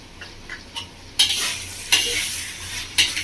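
A spoon scrapes and stirs through katla fish head and eggplant curry in a pan with coriander leaves, a few sharp scraping strokes over a soft sizzle, close and clear with no talking.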